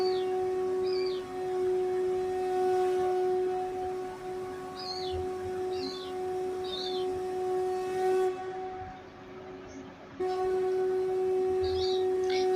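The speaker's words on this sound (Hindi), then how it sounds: "ऐसा लग रहा है चिड़िया कुछ बोलना चाह रही है" A bird gives small clusters of quick, high chirps at irregular intervals over a steady tonal hum and faint background rumble, with no voices.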